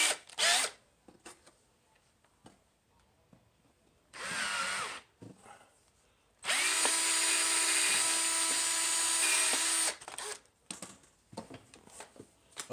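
A power drill bores a quarter-inch hole in plastic for a one-handed classifier, with short whirring bursts and then one long steady run lasting about three seconds, close and loud.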